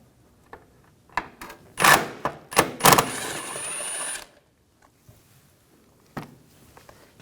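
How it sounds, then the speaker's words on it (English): 10mm socket on a ratchet removing a bolt from the washer reservoir of a 2004-2009 Audi A4 Quattro, with a short run of close ratcheting clicks followed by scattered light metallic taps. "Remove this bolt, same 10mm socket"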